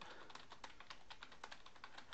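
Steady computer keyboard typing while working in a WordPress text editor, a fast run of light, close keystrokes with no pauses and no voices.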